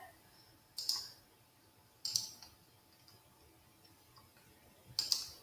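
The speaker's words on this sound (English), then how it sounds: "my mouse is not clicking correctly" A computer mouse clicks three separate times during a math lesson on cylinder volume, each sharp tick standing out from a quiet, hissy background at irregular intervals of one to three seconds.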